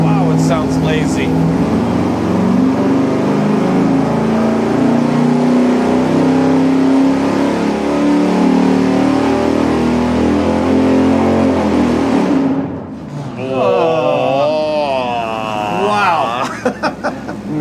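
A 440 engine with its camshaft advanced 10 degrees total pulls hard on a dyno, a loud sustained roar building steadily for about twelve seconds before cutting off. A voice talks over the wind-down.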